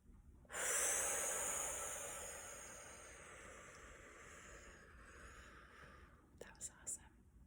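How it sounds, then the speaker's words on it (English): One long, deep breath, drawn in as a loud airy rush that slowly fades, followed by a few soft breathy puffs, close and intimate. "Let's take one more deep cleansing breath"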